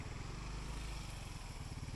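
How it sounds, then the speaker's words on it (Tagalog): A motorcycle engine idles low and rumbling close by at a muddy campsite in a river valley, a steady mid-pitched drone with no talk. "Magpapark lang muna kami rito ng motor namin."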